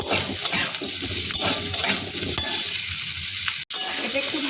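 Steady close sizzling of onion, green chilli, tomato, ginger and garlic frying in a pan, with intermittent stirring clatters and a short break in the sound toward the end.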